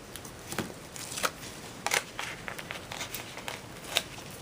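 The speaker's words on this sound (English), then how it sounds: "I like to use my scissors." Scissors snip paper while a Halloween square pillow box bat is being crafted, giving a string of short, quiet, crisp cuts spaced irregularly, with no talking.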